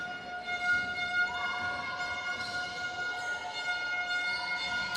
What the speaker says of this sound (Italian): Eleonora Cassai sulla sirena va a realizzare i suoi primi 2 punti.